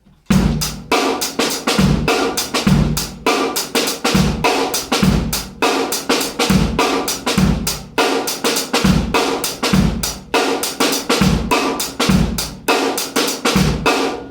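A drum kit plays a steady boogaloo funk groove, kick and snare punching under busy hi-hats, repeating a syncopated pattern loudly and without voices.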